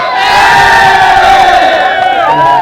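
A large crowd shouts and cheers loudly in a sustained roar, many voices blending together at close range.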